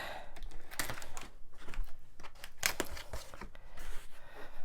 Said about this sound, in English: I have regular scissors, paper scissors in my office, so I can use these for cutting packing tape